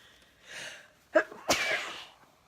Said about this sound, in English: I'm going to sneeze. Just a sec.